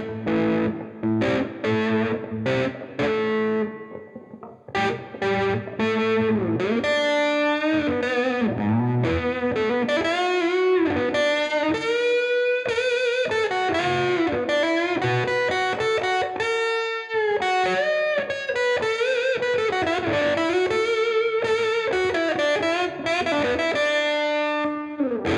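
Electric guitar on both pickups played through a Bugera V22 Infinium valve amp with volume and tone backed off, giving a smooth overdriven lead tone: a continuous run of sustained notes and bends, loud and alone, with no talk.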